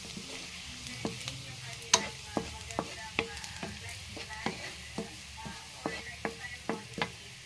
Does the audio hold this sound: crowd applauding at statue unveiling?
no